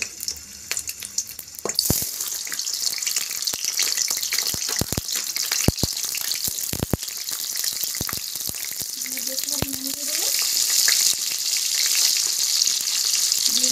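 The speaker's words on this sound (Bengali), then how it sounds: "এই যে সেদ্ধ করা আলুগুলো এগুলোকে আমি আগে ভেজে নেব" Boiled potatoes fry in mustard oil with a loud continuous sizzle that swells after the first couple of seconds, punctuated by sharp spatula knocks against the pan.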